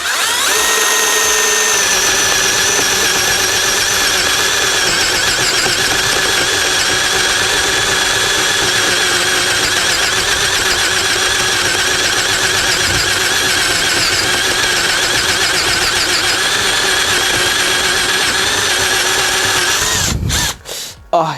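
A Vitals Master ARa 1618-2P SmartLine cordless rotary hammer in first gear bores through a pine board with a 40mm spade bit: a loud, steady, high-pitched motor whine runs for about twenty seconds, then cuts off abruptly.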